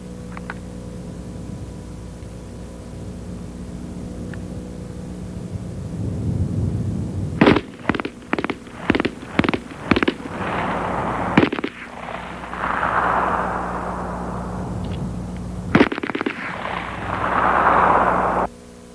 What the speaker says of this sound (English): You can see that the shooter of the submachine gun tackled his targets in only 5 seconds